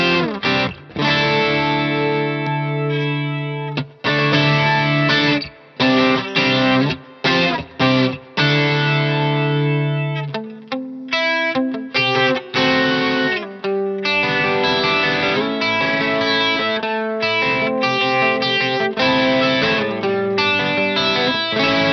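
Electric guitar running through a Greer Lightspeed overdrive pedal straight into a Fender amp plays a crunchy, lightly driven passage of chords and single notes with short pauses, steady and loud for about twenty seconds with no talking.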